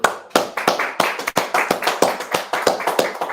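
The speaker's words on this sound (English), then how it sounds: "clap it up" An audience claps at a live broadcast of the Israelite School of Universal Practical Knowledge, sharp and loud in an uneven, fairly quick rhythm, with no talking over it.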